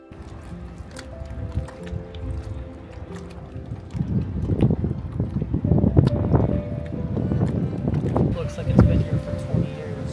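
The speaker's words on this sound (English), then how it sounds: "It's a little bit windy" Gusty wind buffets the microphone on a beach, starting low and turning into loud, rough rumbling bursts in the second half, with people talking underneath.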